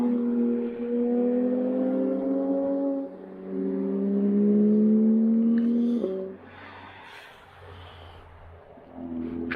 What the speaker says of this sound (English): Couple of Porsches, couple of Mustangs.